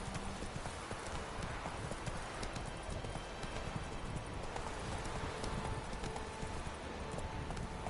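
A horse trots at steady pace in The Witcher, its hooves clip-clopping in a continuous even rhythm, close and fairly loud over a dense outdoor background, with no talking.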